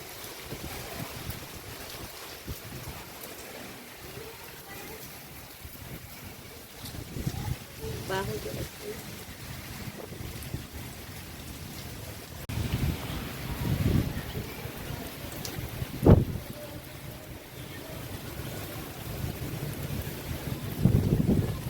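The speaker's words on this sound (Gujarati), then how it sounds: "બગસરાની અંદર અત્યારે વાવાઝોડું જેવી સિસ્ટમ થઈ ગઈ છે ચાલુ" Strong storm wind during heavy rain in Bagasra roars in uneven gusts, with buffeting against the microphone and swelling bursts of noise that rise and fall throughout.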